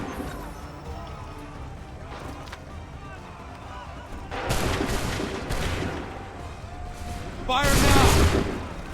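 Bursts of musket volley fire in an Assassin's Creed III battle, two loud broadband crashes of massed shots about three seconds apart, with a low rumble and scattered battle noise between them.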